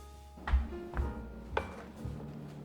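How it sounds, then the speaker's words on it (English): A steak salad with feta and dressing is tossed in a bowl, giving a few soft, close thumps and rustles spaced about half a second apart, with no talk. "Add feta cheese and your dressing and toss the salad"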